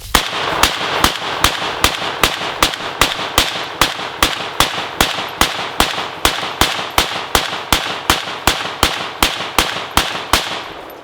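Zastava ZPAP M70 AK-pattern rifle emptying a full magazine in steady semi-automatic fire, about two dozen loud, sharp cracks evenly spaced roughly every half second, each with a short echoing tail, no talking.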